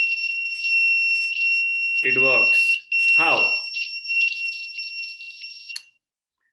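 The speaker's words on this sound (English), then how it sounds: "I plug in the buzzer." An electric buzzer connected to a power supply gives a steady, piercing, high-pitched tone that runs continuously, then cuts off near the end while a child and an adult speak briefly over it.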